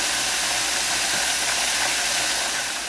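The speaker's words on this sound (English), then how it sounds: "You see the steam, I don't know if you can see it, coming out of the side right here." Steam hisses steadily out of the side of a malfunctioning pressure fryer while chicken cooks, a loud, continuous broadband rush that fades slightly at the end.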